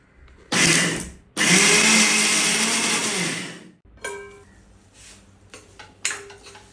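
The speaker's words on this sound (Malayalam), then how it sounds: "കുറച്ച് കുരുമുളക് ഇത്ര ഇട്ടിട്ടൊന്ന് ക്രഷ് ചെയ്തെടുക്കണം" A kitchen mixer jar crushes coconut, turmeric and peppercorns in two loud whirring bursts, the second one longer, followed by lid rattles and a final short pulse.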